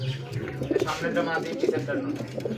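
Pigeons cooing at a pigeon farm: a few soft, rolling coos sound close by, partly overlapped by someone talking and a low steady hum.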